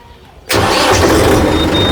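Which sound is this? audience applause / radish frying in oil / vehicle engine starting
vehicle engine starting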